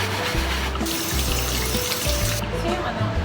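Tap water runs steadily into a sink while an onion is rinsed under it, a close, continuous rushing splash with no voices.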